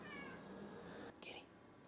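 A cat meows in a drawn-out, strained cry that fills most of the moment, followed by a shorter, higher second call; fairly close and clear, with no talking.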